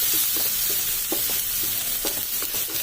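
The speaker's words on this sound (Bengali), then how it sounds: "টমেটোটা যতক্ষণ না টমেটোর যে কাঁচা গন্ধটা যাচ্ছে ততক্ষণ ভাজতে পারবে" Chopped tomatoes fry in a pan while being stirred, giving a soft steady sizzle with repeated scraping strokes of the spoon, close and moderately loud, with no talk.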